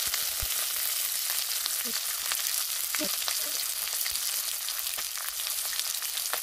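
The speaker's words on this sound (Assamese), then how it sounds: "তেল গৰম হৈ গ'ল ইয়াত মই নহৰু কেক ফুটা দি দিছো তাৰপিছতে ইয়া বিলাহী দি দিছো" Steady crackling sizzle of garlic and tomato frying in hot oil, loud and close, with a few soft stirring clinks and no voices.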